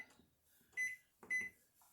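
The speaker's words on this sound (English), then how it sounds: "Put it in the microwave" Microwave oven running with French toast in a covered Tupperware breakfast maker, a quiet hum broken by two short tonal beeps close together.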